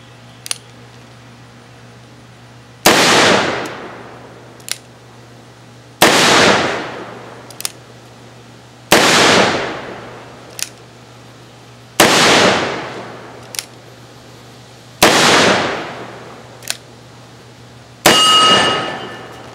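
Ruger Wiley Clapp Blackhawk .45 Colt revolver firing heavy flat-point lead loads at a steel target outdoors: six loud, evenly spaced shots about three seconds apart, each blast followed by a sharp metallic ring from the struck steel plate.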